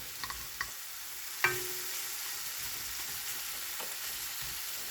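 Foraged mushrooms sizzle steadily in a hot pan, a constant close frying hiss broken by a few small clicks and one sharp clink early on.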